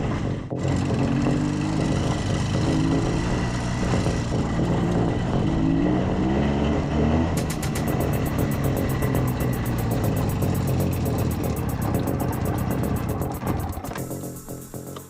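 A Jawa 350/360 motorcycle engine, restored and running on its first ride after 12 years, gives a loud, close, continuous two-stroke buzz whose pitch rises and shifts midway before easing off near the end.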